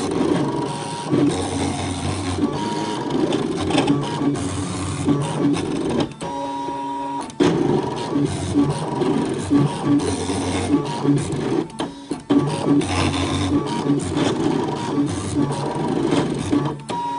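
A Brother ScanNCut machine cuts thick appliqué fabric with a blade set to 5 and cut pressure 4, giving a continuous close mechanical whirring and rattling with brief stepping pauses as the carriage moves.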